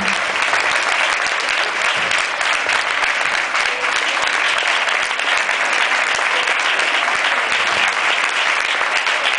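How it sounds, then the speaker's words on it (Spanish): Loud, sustained audience applause for the actors at a forum theatre performance on citizen participation, a dense wash of many hands clapping evenly for the whole stretch. "os quiero dar un aplauso a vosotros y a vosotras"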